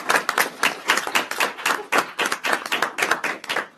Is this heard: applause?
yes